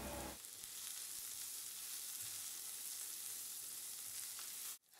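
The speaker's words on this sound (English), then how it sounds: "stir in the rice, ensuring the grains are coated in oil and lightly colouring them" Rice, onion and garlic frying in oil in a pan give a steady, close sizzle with faint scrapes of stirring, continuing unbroken before stopping abruptly at the end.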